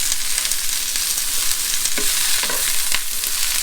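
Cabbage and pork for kalua pig sizzle and fry steadily in a pan, a continuous close hiss with a few stirring scrapes and clinks breaking through near the middle.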